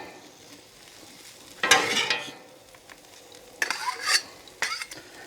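Shredded steak and vegetables for a Philly cheesesteak fry on a flat griddle under a low sizzle, as a spatula scrapes and mixes them in several loud bursts separated by quieter stretches.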